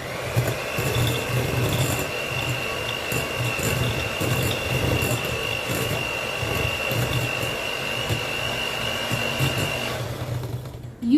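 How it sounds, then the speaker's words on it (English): Hand blender creaming butter and sugar for lemon ginger cookies, a continuous whirring motor with gritty scraping texture, steady and close for about ten seconds before cutting off. "We need to cream this up very nicely. I'm using a hand blender."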